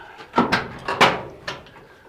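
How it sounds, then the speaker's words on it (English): A door or gate is swung open with a handful of sharp, close knocks and clanks spaced unevenly over a couple of seconds, with a low background hum between them. "You open this door."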